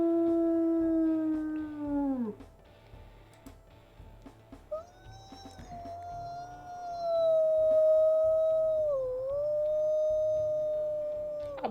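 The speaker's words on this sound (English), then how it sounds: "Let's listen to the howls here." Wolves in the game WolfQuest howl one after another, a long falling howl followed by a sustained wavering one with a pitch dip, clear and loud with no talking.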